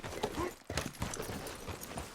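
Horse hooves clop in a steady, fairly quiet rhythm, with a faint voice briefly audible near the start, in Red Dead Redemption.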